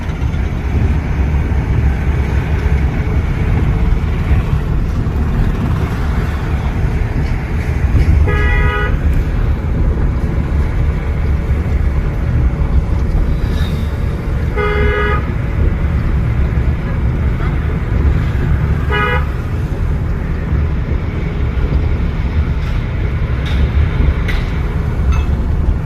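A learner's car at a driving school in Gohana revs hard and steadily in fourth gear, a loud continuous engine roar close by, broken by three short horn toots.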